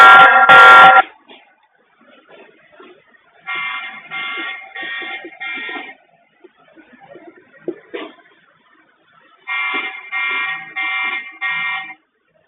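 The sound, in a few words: buzzer alarm of TP-Link VIGI C540V camera when touched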